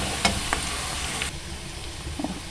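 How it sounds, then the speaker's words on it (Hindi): Onions frying with garam masala in a pan, a steady broadband sizzle throughout with a few soft stirring clinks, fairly quiet and without talk. "प्याज के अंदर मैंने सारा गरम मसाला डाला है और प्याज अभी फ्राई कर देंगे"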